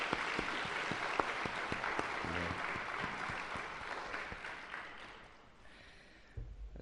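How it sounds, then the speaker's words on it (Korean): Sustained applause from a crowd, dense clapping that gradually thins and fades toward the end. "다시 한번 힘차게 박수 한번 주시겠습니까?"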